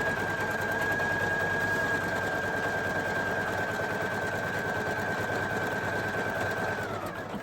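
A Poolin EOC06 embroidery machine stitching out a design, a continuous rapid mechanical hum and clatter with a steady high whine that drops away just before the end.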